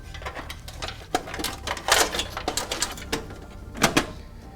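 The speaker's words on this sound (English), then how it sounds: "So carefully slot it in," Plastic and metal clicks, scrapes and knocks sound close and dry as a fan controller is slid into a PC case's 5¼ inch bay, arriving in uneven bursts with short pauses between them.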